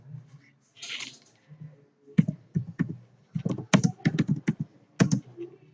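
Keys clatter on a computer keyboard as a command is typed, in a close, uneven run of crisp clicks that speeds into a quick burst, with brief pauses between groups and no voices.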